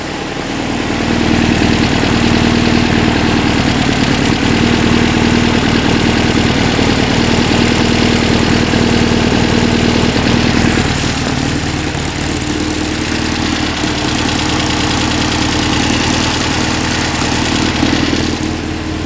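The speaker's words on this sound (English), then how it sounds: "So yeah, exhaust leak. Sounds like it's missing." A 1966 VW Beetle with a 1776cc engine idles with an exhaust leak and a misfire, giving a loud, close, steady chugging drone with an uneven, puffing beat that runs the whole time.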